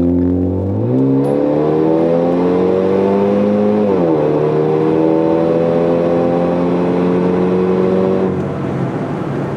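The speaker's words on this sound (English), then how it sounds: "I'll go ahead and full throttle real quick" A 2013 Ford Fusion Titanium with its muffler deleted accelerates at full throttle, the loud engine drone climbing steadily in pitch, briefly dropping at a gear change, then climbing again through the run.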